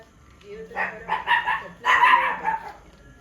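A dog barks several times in quick bursts, fairly close, with short pauses between the yaps and a brief second flurry.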